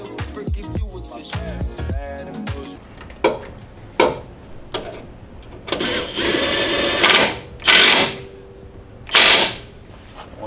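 A power tool tightens bolts on a car subframe during an LS-swapped Miata rear differential swap, with short clattering mechanical bursts and a few louder whirring pulses close by.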